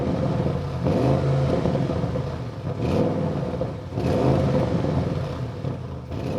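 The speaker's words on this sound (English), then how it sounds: "First of all, I will start up the car, then accelerate a little bit with the normal mode, and you will hear that sounds like nothing." A new Audi RS6 Avant in normal mode starts and revs gently a few times, a close, moderately loud engine rumble that swells and settles in repeated short bursts.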